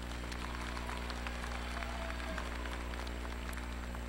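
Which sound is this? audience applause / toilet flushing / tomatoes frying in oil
audience applause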